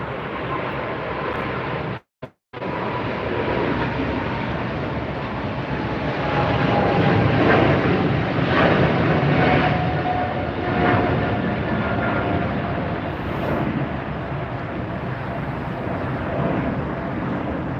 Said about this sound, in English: Comes an American lifting off.